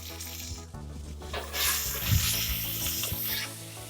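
Onion, garlic and pepper sizzle and fry in a pan for braised octopus with tomatoes, a steady crackling hiss with occasional stirring scrapes, close and continuous.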